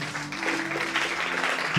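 A church congregation applauding during a Bible teaching, a dense, continuous patter of many hands clapping for under two seconds with a low sustained hum beneath.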